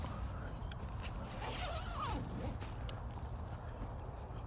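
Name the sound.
zipper of a lightweight hiking tent being zipped closed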